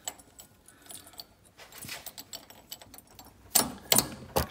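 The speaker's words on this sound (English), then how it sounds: "So I'm gonna thread the bolts in." Long bolts threading into a cheap flywheel puller on a Briggs & Stratton engine: soft metallic clinks and scraping, a few sharper rattling clicks near the end, fairly faint and with no talk.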